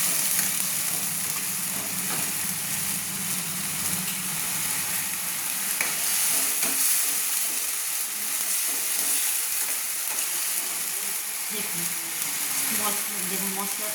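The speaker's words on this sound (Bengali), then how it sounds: "মশলাটা ভাজা ভেজে নেব। মশলাটা তেল যতক্ষণ না ছাড়ছে ততক্ষণ" Spice paste fries in hot oil with a steady, close sizzle, and a spoon occasionally scrapes and stirs through it.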